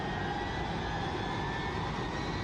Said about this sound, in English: Wow, listen to those engines.